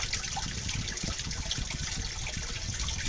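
An aquaponics water pump sends water back up to the top of the system, making a steady close rushing and trickling hiss that holds even for the whole stretch.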